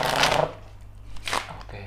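Playing cards being shuffled during a magic trick, two quick riffling bursts separated by a short pause, close up and crisp.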